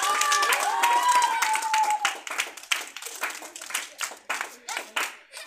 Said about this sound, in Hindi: थोड़ा ताली उली बजाओ,